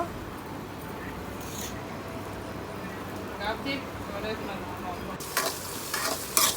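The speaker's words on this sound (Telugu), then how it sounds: "దాంట్లో ఆవాలు జీలకర్ర పచ్చిమిరపకాయ ముక్కలు ఉల్లిగడ్డ ముక్కలు వేసేసాను" Mustard seeds, cumin, green chilli and onion pieces frying in a pan for upma tempering, a steady close sizzle with stirring and a few sharper crackles and spatters near the end.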